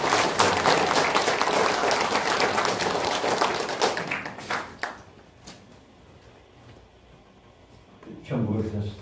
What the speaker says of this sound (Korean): 그걸 박수 한 번 더.